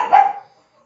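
A single short, loud dog bark close by, set off by a passing sound truck, ending abruptly with silence after.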